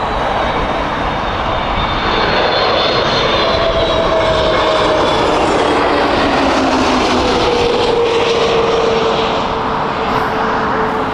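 Brand-new KLM Airbus A321 jet at Heathrow, engines roaring loud and steady throughout with a broad rushing whine and a slowly falling tone as the airliner passes close by.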